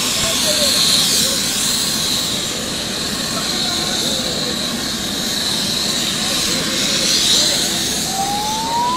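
Helicopter carrying a donor heart arrives in Kochi, heard as a loud steady turbine whine and rotor roar with hissing wash, holding close throughout with a rising tone near the end.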